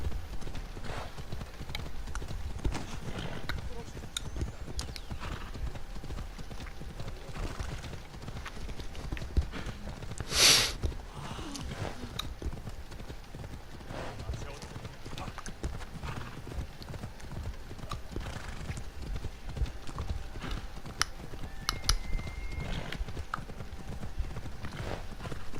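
A horse gallops in the video game Assassin's Creed Odyssey with steady, rhythmic hoof clip-clops throughout and a brief whinny partway through, all at moderate volume.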